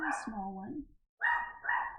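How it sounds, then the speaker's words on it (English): A dog barks a few times in the background while a person talks over it. "Sorry, my dog's barking, if you can hear that in the background."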